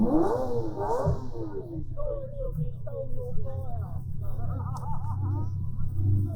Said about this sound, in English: Scott's having a go in the Lamborghini